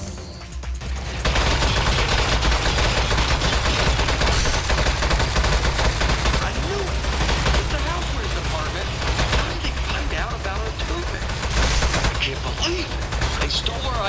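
Turret gun in a video game fires a dense, unbroken barrage of rapid shots that runs loud and steady for the whole stretch, with talk underneath.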